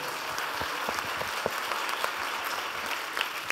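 Applause from the audience at a conference session on reform in Quebec, a fairly quiet, even patter of many hands clapping with a few sharper claps standing out.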